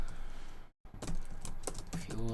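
Keystrokes on a computer keyboard while code is typed for a Minecraft ComputerCraft turtle program, a quick run of close clicks broken by a brief pause, with a voice talking over them.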